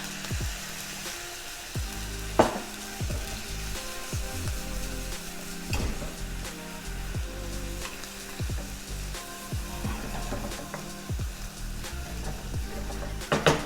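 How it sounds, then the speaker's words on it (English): Beef stock splashing into a sizzling pan of lomo saltado, a steady loud frying hiss with repeated scraping and clatter from stirring throughout, no voices. "I'm gonna add some of that beef stock into it"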